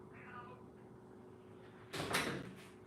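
A house's front door opens for a cat to come in, a short sharp burst of clatter and rattle after a stretch of quiet room tone, with a faint voice just before.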